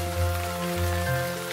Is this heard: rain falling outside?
yes